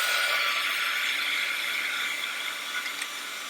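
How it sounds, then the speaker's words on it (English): A heat gun blows steadily on material sitting in a bowl, a close, continuous airy whir with faint small rattles, fading slightly toward the end with no speech. "Using my heat gun and heating."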